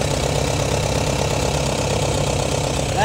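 A car engine with a freshly adjusted throttle linkage idles steadily and close by, giving a continuous even rumble that holds level for the whole stretch with no talking.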